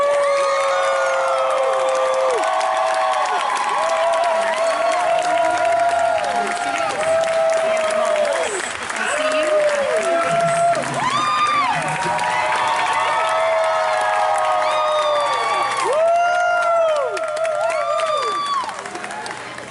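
Riders on the final tour of the retired Great Movie Ride theme park attraction clap and cheer, with whoops and excited shouts rising over steady applause throughout.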